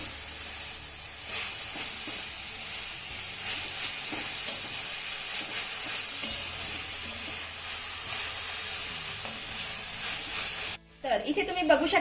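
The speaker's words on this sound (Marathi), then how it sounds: "ही घातलेली मेथीची भाजी देखील आपल्याला दोन मिनिटं चांगली परतून घ्यायची आहे" Fenugreek leaves sautéing in a pan while an aubergine dish is cooked, giving a steady close sizzle and hiss with a few faint stirring scrapes, then a brief louder clatter at the very end.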